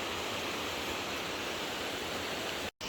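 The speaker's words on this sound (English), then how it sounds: "So the waterfall comes here from Mount Hood." A waterfall fed from Mount Hood in Oregon rushes in a constant, full broadband roar, heard alone, with a brief dropout just before the end.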